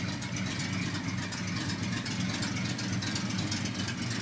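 A 1956 Chevy stepside short-bed pickup idles with a steady, low, even engine rumble, unbroken throughout.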